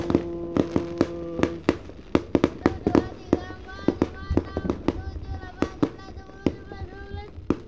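A string of firecrackers bursts in rapid, irregular sharp cracks at a New Year celebration, loud and fairly close, while voices talk and a tonal hum carries underneath.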